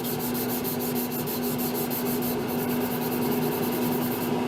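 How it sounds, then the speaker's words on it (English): Steady, even rubbing of 800 grit sandpaper across a CNC-cut solder paste stencil, a close hiss-like scraping with regular strokes and no talking. "Now we've got some 800 grit sandpaper we're going to use to smooth it out just a little bit."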